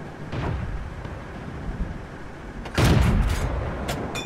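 A tank cannon shot in a video game: a single loud, deep broadband blast erupts near the end over a low steady rumble of engine and ambience, followed by a brief ringing tail.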